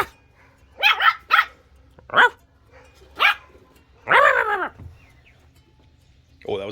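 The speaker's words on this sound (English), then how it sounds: "She's got the big dogs going now." Several dogs bark in separate bursts, one after another, ending with a longer howling bark, fairly close by.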